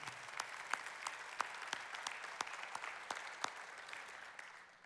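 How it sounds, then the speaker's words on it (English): A round of applause at a volunteer appreciation event, fairly quiet and somewhat distant, with a few sharp individual claps standing out over the thinner clapping before it fades out. "So let's go ahead and give Jennifer another round of applause, all our Six Stones staff and everybody who supports them."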